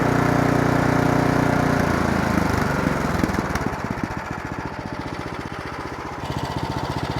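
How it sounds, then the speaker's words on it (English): An Ariens Professional 32 snowblower engine runs loud and steady, then drops into a lower, pulsing chug as the throttle is eased off, close by with no talk. "We're gonna ease the throttle off."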